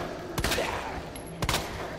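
Two quick bursts of gunfire ring out in Resident Evil 2 Remake as a zombie is shot, each sharp crack standing out over a low game ambience.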